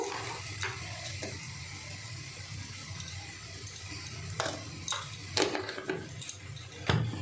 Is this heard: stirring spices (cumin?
yes